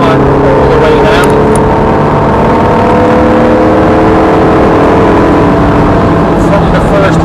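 A Ferrari F430 accelerates hard along the Thruxton race circuit, its engine note climbing steadily and loud up close for the whole stretch, with a voice speaking over the continuous roar.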